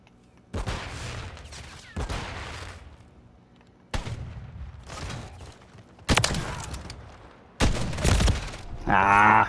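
Gunfire in a first-person shooter video game: five separate loud shots or short bursts spaced about two seconds apart, each ringing off briefly, and a voice at the very end.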